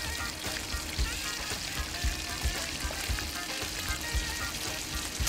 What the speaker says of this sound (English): Turn the pieces over and cook until brown